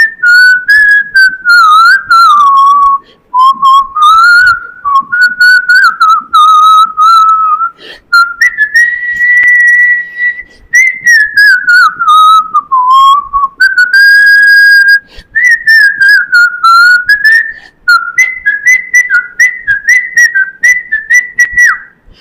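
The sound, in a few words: person whistling a song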